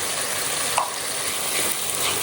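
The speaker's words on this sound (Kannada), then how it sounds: "ತರಕಾರಿ ಸ್ವಲ್ಪ ಫ್ರೈ ಆದ ನಂತರ" Vegetables including capsicum frying in a pan for bisi bele bath, a steady close hiss and sizzle throughout with a faint stir scrape partway through.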